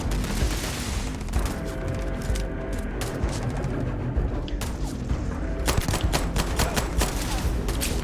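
Pistol fire from the space game Starfield, a run of sharp repeated shots crackling over a dense, constant battle din with other gunfire and booms throughout.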